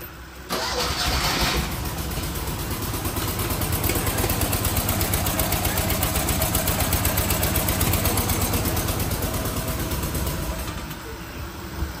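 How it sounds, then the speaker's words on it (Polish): A car engine, tried without the choke, cranks briefly and then fires, settling into a loud, steady, slightly rough idle close by that continues throughout, with no talking. "spróbujmy jeszcze raz go odpalić bez włączonego ssania"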